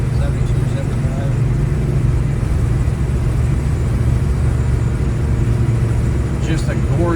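A 1972 Oldsmobile Hurst with a 455 big-block V8 cruises at about 75 mph on a highway, giving a steady deep engine drone and road rumble heard from inside the cabin, loud and constant throughout.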